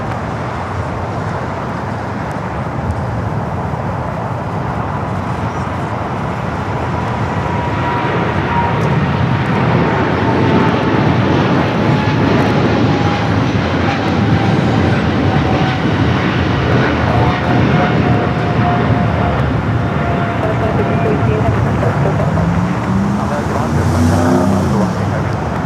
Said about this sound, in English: China Southern Cargo, 777 freighter rolling down at 25 right